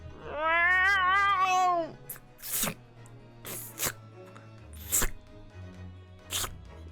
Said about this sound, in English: Makes pathetic wet cat noises.